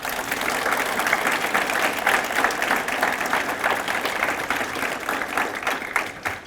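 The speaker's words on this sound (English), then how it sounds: "And I think you all need to give each other, and the graduates give you, a big round of applause and thank you." Graduates and guests at the SVSF Center 2024 graduation ceremony give a sustained round of applause, dense steady clapping from a crowd that fills the room for several seconds before tapering off.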